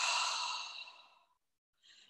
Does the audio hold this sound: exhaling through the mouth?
yes